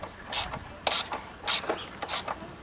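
A ratchet tightens a bolt on the aluminum oil filter housing of a Ford Mustang, giving four short bursts of close, crisp clicking spaced about half a second apart.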